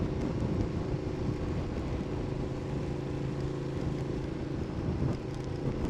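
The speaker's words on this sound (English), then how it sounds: "The wind's beginning to get a little blustery" Gusty wind buffets the microphone while riding a Ducati Multistrada 1200 motorcycle in stormy weather, a steady broad rumble with faint engine drone underneath and a brief dip near the end.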